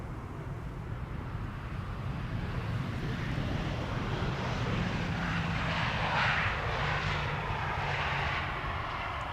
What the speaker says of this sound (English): This is KLM flight 1406. Landing. Arriving from Paris.